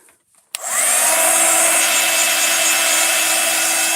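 A hair dryer blows on wet paint on a mixed media Christmas bauble, starting abruptly after a brief click and then running as a loud, steady close-up whoosh.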